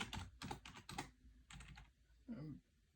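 A terminal command is typed on a computer keyboard in a short burst of close, quiet key clicks, a pause, a few more taps, then a single heavier key press.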